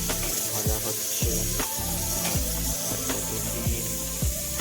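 Potatoes frying in a pan for an egg curry give a continuous close sizzle with repeated scraping strokes at a regular rhythm, no voices.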